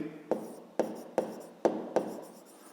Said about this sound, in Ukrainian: Записуємо тоді так, пишемо 2 і пишемо